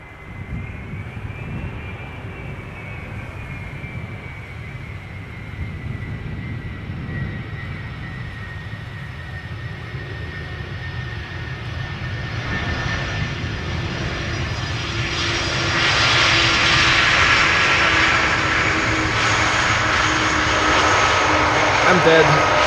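A Boeing 737 jet arriving from London at Amsterdam Schiphol Airport approaches with a whining engine tone that swells from a distant hum into a loud, close roar, with faint voices underneath.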